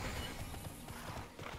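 Horse hooves clip-clopping while riding a horse in the Tera video game, a quick irregular patter of soft thuds over a busy game-ambience background, no talk.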